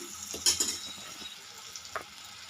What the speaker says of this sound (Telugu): వెల్లు అల్లం వెల్లుల్లి పేస్ట్ వేయంగానే చూడండి మంచి వాసన వస్తుంది బాగా ఫ్రై అవ్వాలి